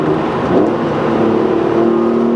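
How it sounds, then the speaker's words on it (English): A Porsche 911 Carrera 4 Cabriolet engine with carbon fiber intake drones loudly and steadily from inside the cabin during a fourth-gear roll-on, a sustained throaty hum with a slight rise in pitch. "But listen to this. That carbon fiber intake."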